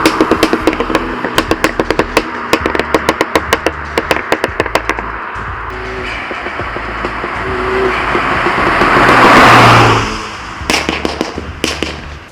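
A Mini John Cooper Works or Cooper S exhaust with its valved Pro system open in sport mode fires off a loud, rapid series of sharp pops and crackles, swells into a rising rev, then snaps back into more crackling bursts.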